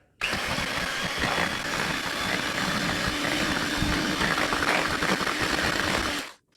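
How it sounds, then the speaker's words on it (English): Electric whisk blending custard into a mascarpone filling, a steady whirring motor with rough churning texture running continuously for about six seconds, then stopping. "I'm gonna use the whisk, blend it in good and proper."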